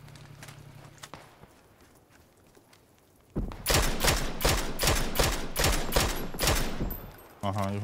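Sustained automatic gunfire rattles in the battle royale game PUBG, a long, loud run of rapid shots that kicks in after a quieter stretch of faint footsteps and distant pops.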